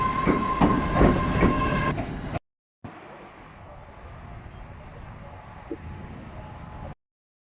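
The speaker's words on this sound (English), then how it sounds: "Here's a 380 leaving Edinburgh." A Class 380 train pulls out of Edinburgh station, its motors humming with a rising tone and its wheels clacking on the rails nearby; a short silent break follows, then a steadier, rumbling passage.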